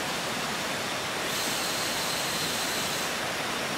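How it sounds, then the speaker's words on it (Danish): A waterfall in the Khao Sok rainforest of Thailand pours as a dense, continuous rushing hiss, close and loud, with no voices and no distinct bird calls standing out. "Fugle og vandfald og alle mulige mærkelige ting, der siger lyde."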